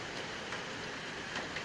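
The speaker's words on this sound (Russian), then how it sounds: "И вдруг после такой жары полился сильный дождь, но без грома." Heavy summer rain without thunder pours down outside a balcony, a continuous dense hiss that stays steady and even from start to finish, with no voices.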